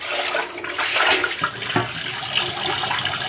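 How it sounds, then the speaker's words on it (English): Running water rinses lubricant off clinic instruments in a sink, a steady close splashing rush that lasts a few seconds with no voices. "I'm just gonna dump the rest of the lubricant and rinse it off."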